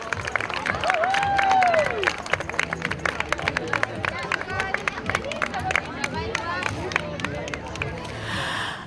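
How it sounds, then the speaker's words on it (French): A crowd at a half marathon race cheers and claps for runners, a dense wash of applause and hubbub close by, with a whistle and an announcer's voice over the clapping throughout. "Une bonne main d'applaudissements."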